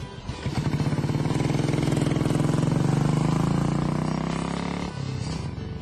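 A Royal Enfield Bullet single-cylinder motorcycle thumps steadily while being ridden, its loud, close engine note rising and easing slightly before the throttle drops near the end.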